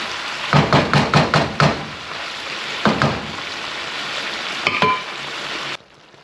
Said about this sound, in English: Stew the onions and peppers in and let all that flavor cook into the meat.